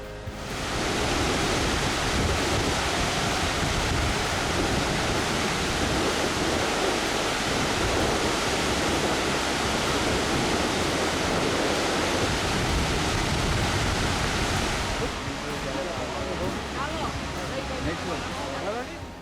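Icelandic waterfalls fed by a cold glacial spring pour into river rapids, giving a loud, steady broadband rush of falling water that holds constant, then eases slightly near the end.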